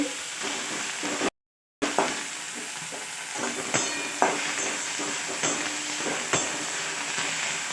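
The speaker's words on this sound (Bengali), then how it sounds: "দেখো করলা পাতা দিয়ে নাড়াচাড়া করে নিচ্ছি" Bitter gourd leaves stirred and frying in a pan with an already-cooked spiced curry: a continuous sizzle with occasional spatula scrapes and taps, close, briefly cut to silence once, no speech.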